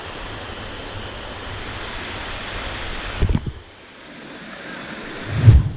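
A Costa Rica waterfall roars as a steady broadband rush of falling water, loud and close, briefly interrupted by bumps and a drop before surging again.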